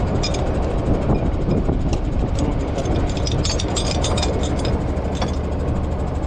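A custom-built water well drilling rig runs at a borehole site, giving a continuous loud mechanical rumble with repeated rattling and clanking metallic ticks over it.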